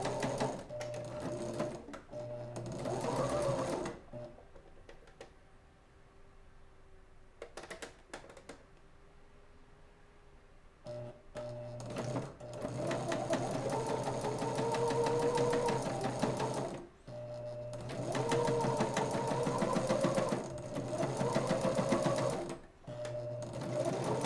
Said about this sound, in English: stretching the fabric while I sew